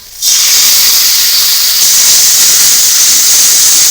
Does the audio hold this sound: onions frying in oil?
yes